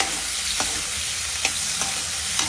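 Prawns sizzling loudly in hot oil, a dense close-up hiss with a few sharp pops or stirring clicks scattered through, no voices.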